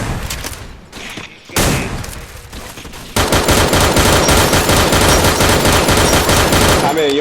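Gunfire in the Free Fire battle royale game, including an RG50, first scattered shots and then a sustained loud burst of rapid automatic fire, close and dense, with no talk over it.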